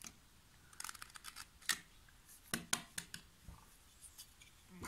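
A utility cutter blade slicing through very hard wood gives a string of sharp, dry cracks and snaps, each short and close, spaced irregularly over a quiet background.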